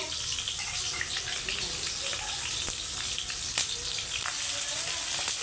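Chopped onions sizzling in hot oil in a home kitchen pan, a steady bright crackle with scattered pops, no voice over it.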